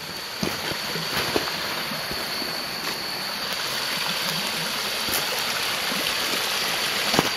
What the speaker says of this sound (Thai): น้ำตกย่อมๆ